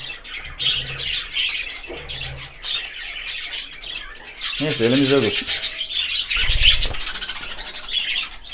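A pet budgerigar squawks and chirps up close in a room, giving harsh bursts and a quick run of rapid trills. Someone speaks in between the bird's calls.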